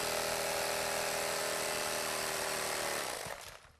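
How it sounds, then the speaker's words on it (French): An electric meat knife saws through upholstery foam with a loud, steady buzzing whine that runs without a break and then cuts off abruptly near the end. "Grâce à un couteau à viande électrique, nous allons découper la mousse."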